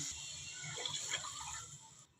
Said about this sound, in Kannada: ಎರಡು ಕಪ್ಪು ನೀರು ಹಾಕ್ಕೊತೀನಿ